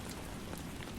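Rain falling in a steady, even wash of soft hiss, close and dense with no other sounds, lasting about a second.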